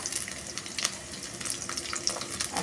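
Onion and garlic frying in a pan give a steady broadband sizzle with light crackles, close and fairly loud throughout, with faint stirring and no talk.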